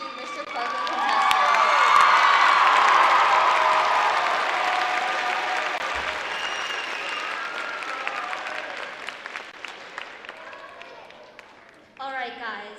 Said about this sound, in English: Please give one last round of applause to all of your 2022 Mr. Parkland contestants.